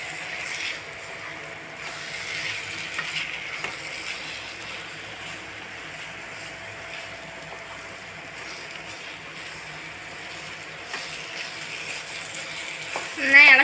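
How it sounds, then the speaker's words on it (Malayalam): Broken wheat upma being stirred in a frying pan, a soft, steady frying hiss with faint scraping that runs throughout and swells slightly at the very end. "നന്നായി ഇളക്കി കൊടുക്കുക."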